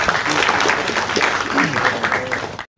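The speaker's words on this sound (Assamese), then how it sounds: "হয় অলপ জোৰে হাত চাপৰি হ'ব পাৰে" Audience applause at a teaser release event for a Zubeen Garg film, a steady dense wash of clapping with voices mixed in, ending abruptly in a brief silence.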